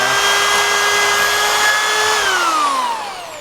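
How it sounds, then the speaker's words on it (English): Electric drill boring straight through a wooden board: a close, loud whine holding a steady pitch, then dropping and fading as the bit breaks through and the motor winds down. "squeeze quickly to make the drill drive all the way through."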